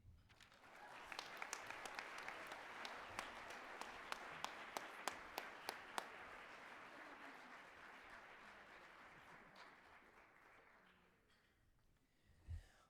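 Sustained applause from a large audience at a gala event, steady dense clapping with a few sharp claps standing out, tapering off near the end.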